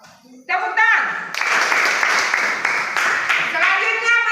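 Students in a classroom burst into applause, a dense round of hand clapping that starts abruptly and carries on for a few seconds, with voices at either end.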